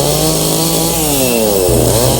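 Chainsaw biting into a log wall to cut a window header, a loud close whining engine with shifting pitch as the chain bogs and rises through the wood.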